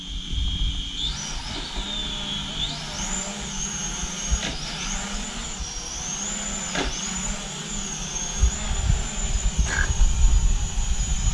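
A newly flown small drone hums with a steady high-pitched rotor whine whose pitch rises and shifts as it climbs, heard outdoors against faint background noise with scattered bumps.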